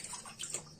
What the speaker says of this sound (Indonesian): ini kita masukkan airnya